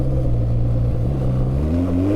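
A BMW R 12 G/S motorcycle engine pulls hard under acceleration, a loud, steady close-up drone whose pitch climbs gradually toward the end, with no speech.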